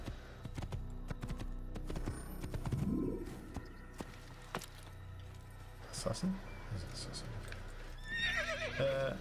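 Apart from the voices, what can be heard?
horse hooves and neigh in Assassin's Creed video game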